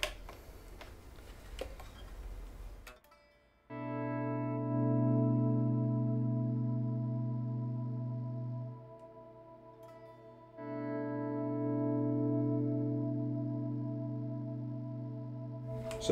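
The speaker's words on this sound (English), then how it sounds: "I can go for that infinite reverb kind of sound, which is great for your for like your volume swells" An electric guitar runs through a Neunaber Seraphim Shimmer pedal set to infinite reverb, building sustained, swelling pad-like chords that hang and slowly fade before another swell rises, loud and continuous with no talking.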